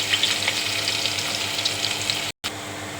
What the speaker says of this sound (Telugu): ఉల్లిపాయలు అయితే దొరకైంది.